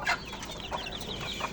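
Desi chickens give short, soft clucks in a quick scattered series, fairly faint and close, with no talk over them.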